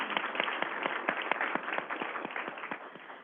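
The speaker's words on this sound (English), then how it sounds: "Let's give them applause." A conference audience applauds with a steady stream of individual hand claps, moderately loud and evenly spaced, heard with a narrow, slightly muffled tone.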